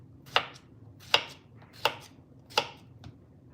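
Four evenly spaced, sharp knife chops on a cutting board as vegetables are cut to a good size, crisp and close in a quiet kitchen, no talk.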